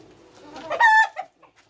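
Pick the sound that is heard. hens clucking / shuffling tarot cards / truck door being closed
hens clucking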